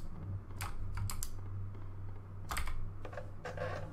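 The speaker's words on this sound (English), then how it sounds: "Sorry for the clickety clackety." Keyboard typing during a horror game session: irregular bursts of clicky key presses, close and moderately quiet, with short pauses between clusters over a low steady hum.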